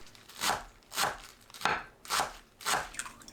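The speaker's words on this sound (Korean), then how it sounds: "부추를 작게 썰어주세요." A knife chops chives on a cutting board in a home kitchen: five crisp, evenly spaced chops in a steady rhythm, close and clear with no talking.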